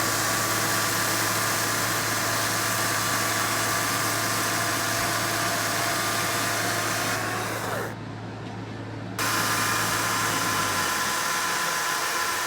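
Tractor engine held at wide-open throttle to drive a hydraulic rear post hole digger, a steady, loud mechanical drone with a constant low hum that briefly dips near the end.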